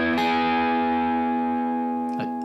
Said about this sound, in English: You can hear the chords when you play like that